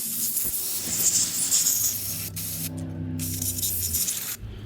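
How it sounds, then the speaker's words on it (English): Brake cleaner sprays in a steady hiss into the carburetor body of a Stihl MS170 chainsaw, a close continuous jet with a brief break partway through, alone without talk. "Alright, we sprayed out that carb body."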